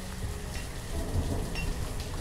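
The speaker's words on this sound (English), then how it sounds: "Oh, it's late winter and it's raining?" Steady rain falls in the Banished video game, a dense even hiss with a low rumble beneath, continuous and alone with no talk.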